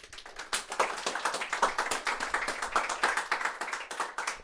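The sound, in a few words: audience applause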